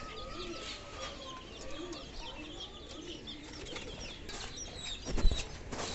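Bantam chickens in a fancy bird loft cluck and chatter in scattered bursts, mixed with other bird calls and a brief loud flurry of wing flapping near the end.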